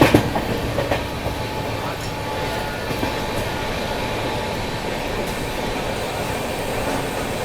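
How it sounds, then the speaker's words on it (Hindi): The Shiv Ganga Superfast Express (12559) rumbles through a curve near Subedarganj, heard from aboard as a loud, steady rolling roar with rhythmic clickety-clack of wheels over rail joints and a few sharp knocks at the start. "प्यारा सा कर्व लेती हुई अपनी शिव गंगा सुपरफास्ट एक्सप्रेस"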